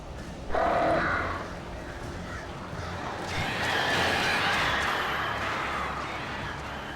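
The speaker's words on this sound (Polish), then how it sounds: "These birds are weird." Strange crows caw harshly in the Alan Wake game, with a loud caw early on and then a dense, fluttering flock chattering together that stays fairly steady in the background.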